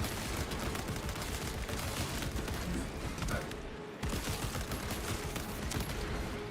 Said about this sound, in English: Auto bolt rifle